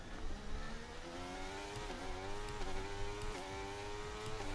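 A Formula 1 car in the F1 23 racing game runs at high revs, a steady, rising engine whine with gear-shift dips, continuous and fairly quiet with no talk over it.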